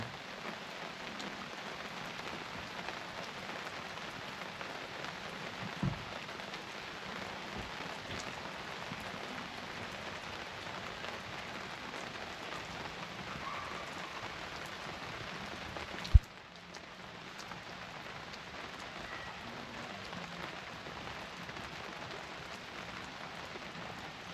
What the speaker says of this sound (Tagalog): sarap tumambay pag naririnig mo yung patak ng ulan.